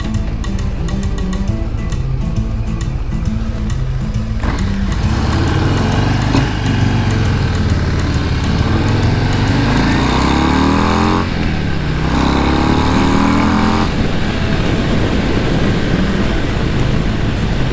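2023 Harley-Davidson Breakout with the 117 V-twin engine, producing a deep, loud, continuous rumble that climbs and falls in pitch through repeated acceleration runs and gear changes, close and with no voices.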